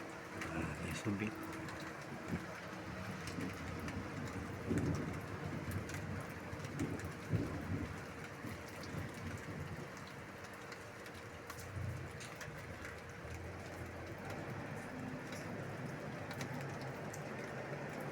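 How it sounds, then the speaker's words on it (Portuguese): Steady rain from a cyclone falls over a town in São Paulo state, a constant dense hiss with low rumbling underneath, carrying on throughout at a moderate, even level. "Ciclone mandando chuva pra cá, pra região."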